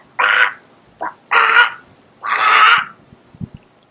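A human voice imitates a falcon call with three loud, drawn-out squawks and a short yelp between them, followed by faint knocks.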